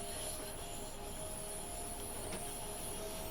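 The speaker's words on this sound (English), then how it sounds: "That is a train heading for London Bridge." A train heading for London Bridge passes in a train simulator game, a faint steady rumble of wheels on rails with a thin, sustained high squeal running through it.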